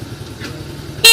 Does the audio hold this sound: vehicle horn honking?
yes